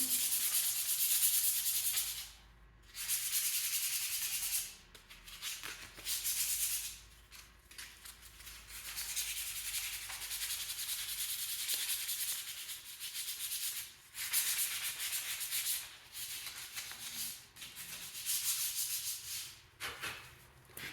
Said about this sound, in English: We'll hit it one more time with a light sanding.